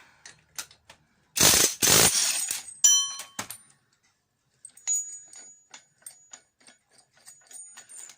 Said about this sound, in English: Really is the best thing I've ever bought, that impact wrench.